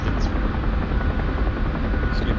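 A helicopter in the DCS flight simulator drones steadily with a loud, dense rotor and engine roar throughout, with no break.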